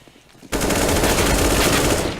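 Gunfire in a shooter video game: after a brief quiet moment, a dense, loud burst of rapid automatic fire erupts and continues without pause to the end.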